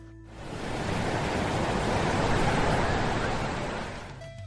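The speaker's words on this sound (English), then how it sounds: "it's a sound of a very big wave that caused so much" A very big ocean wave crashes in a single broad, loud roar of surf that swells and slowly fades over a few seconds, with no voices.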